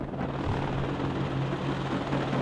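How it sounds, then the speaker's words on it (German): Helicopters in the strategy game Warno, a continuous loud rotor thrum with a low steady drone and fast chopping pulse, sustained throughout with no talk. "Schöner Einsatz der Helikopter hier auf jeden Fall."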